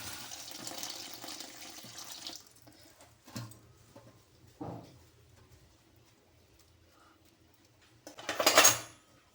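Tap water runs over drumstick leaves being washed, with a burst of running water, a few dull knocks of a pot or dish and long quiet gaps, then a loud final gush.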